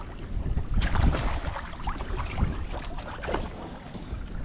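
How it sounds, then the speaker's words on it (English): Gusty wind buffets the microphone outdoors on water during winter fishing from a boat, a steady low rumble with occasional splashes and thumps. "as y'all can see, it's windy today"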